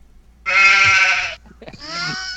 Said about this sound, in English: did I just hear a sheep?